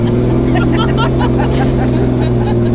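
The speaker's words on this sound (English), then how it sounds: "Now just drive straight over that dune." A stock Jeep climbs straight over a sand dune, its engine droning steadily and loudly at close range for a few seconds, with speech-like sounds picked up alongside the motor hum.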